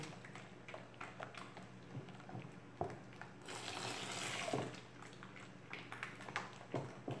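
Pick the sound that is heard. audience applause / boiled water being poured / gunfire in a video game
boiled water being poured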